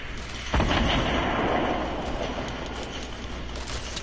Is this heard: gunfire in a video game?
yes